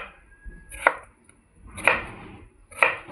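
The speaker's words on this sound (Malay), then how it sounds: "Pertama sekali rasanya kita kena potong kentang tu dulu" A knife chops potatoes into cubes on a board for a seafood gulai lemak, three sharp, close strokes spaced about a second apart with quiet between.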